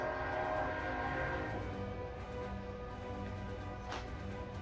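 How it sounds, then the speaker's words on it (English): A train rumbles past nearby, a broad continuous roar with layered horn-like tones, steady and loud throughout. "Sorry about the train. I live near a train."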